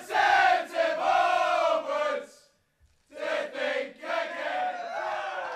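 A cricket crowd roars and chants in celebration as fans invade the pitch after a Scotland win, with loud sustained voices that drop briefly to silence and then swell again.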